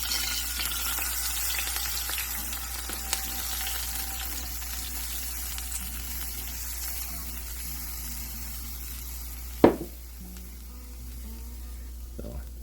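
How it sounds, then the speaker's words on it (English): A hot pot-roast pan still coated in oil and browned bits being deglazed with a cup of red wine, giving a loud, steady sizzle that stays bright, then a sudden clatter near the end before it settles quieter. "I'm going to deglaze the pan with my 1 cup of red wine."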